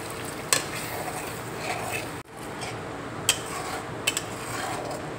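Milk poured into a frying spice mix in a pan for a rasgulla curry, giving a steady close sizzle with a brief dip and a few light clinks of a utensil against the pan.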